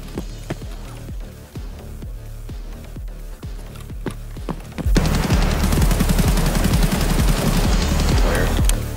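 Gunfire in a realistic online shooter game where Mosin rifles are in use: scattered single shots ring out for several seconds, then a dense, loud, continuous volley of overlapping shots takes over.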